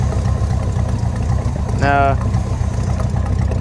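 A newly installed Suburban engine runs at a steady, rumbling idle close by, with a brief voice cutting in over it midway.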